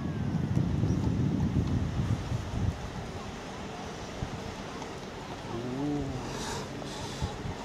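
Wind gusts hard against the microphone and flaps a tarp, a loud buffeting rush that eases after a few seconds, with faint voices and water-like noise behind.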